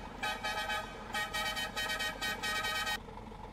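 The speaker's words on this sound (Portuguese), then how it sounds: "Olha aí a buzina também." Scania 111s truck horn in Euro Truck Simulator 2, sounding in a rapid series of loud, bright blasts over about three seconds over a low engine rumble.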